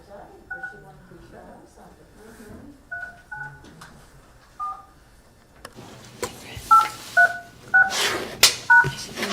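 Someone punches a telephone keypad to dial into a conference call on an office phone system, sending out a sequence of short beeping tones. Quieter spaced beeps come first, then louder tones mixed with background voices and clatter.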